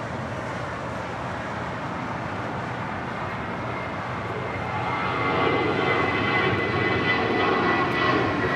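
An Embraer E175LR jet airliner arriving at Los Angeles International Airport gives a steady, broad jet-engine roar that swells noticeably about halfway through and stays loud, with no voices.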